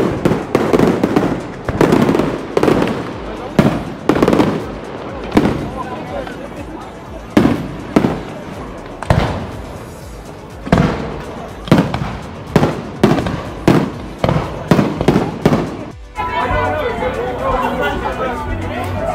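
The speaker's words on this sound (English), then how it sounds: "So there are still lots of fireworks." Fireworks burst over Split, Croatia, during the city's anniversary celebration: a rapid series of loud, sharp bangs and crackles in irregular clusters, with crowd chatter underneath and a denser crackle near the end.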